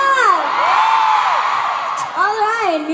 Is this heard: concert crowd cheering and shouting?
yes